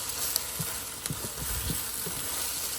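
Eggs frying in a pan over a strong flame for a simple scrambled-egg breakfast, a steady crackling sizzle with a few soft stirring knocks, close and alone.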